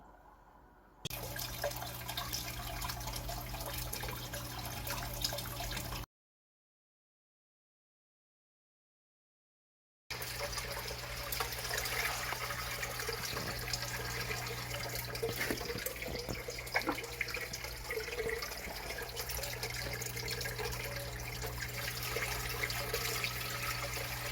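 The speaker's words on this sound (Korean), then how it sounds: "환수할 때 마지막 물 넣는 방법 한번 알아보실게요" Water pouring steadily into an aquarium during a water change, a continuous close splashing flow that stops abruptly for a few seconds of silence, then resumes with faint handling knocks.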